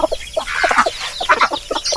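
Several native chickens cluck close by on a farm in quick, uneven bursts, overlapping one another without pause.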